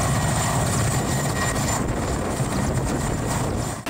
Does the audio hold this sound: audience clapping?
no